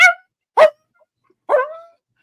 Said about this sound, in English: That's a Chihuahua